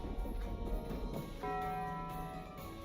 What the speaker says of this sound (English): That sounds exactly like a Taco Bell sound effect.